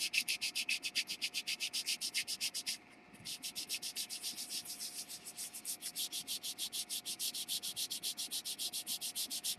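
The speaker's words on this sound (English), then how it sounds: "I'm going to do a little sanding" Quick, rhythmic back-and-forth rasping of 100-grit sandpaper on a surface, close up, with a short pause partway through before the strokes resume.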